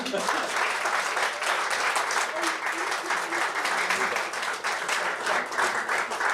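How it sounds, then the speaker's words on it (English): A large crowd at a book launch applauds steadily, dense clapping sustained throughout at a strong, even level. "our round of applause should move Nallis building"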